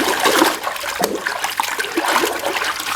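Water splashes and trickles over a toy helicopter as it is washed, a close, steady running-water sound with small splatters and no voices.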